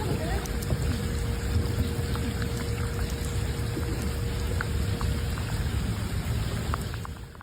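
Heavy rain pours down steadily during a Chicago flash flood, a dense continuous wash of water noise with scattered drops and splashes, loud and unbroken throughout, with a faint low hum underneath.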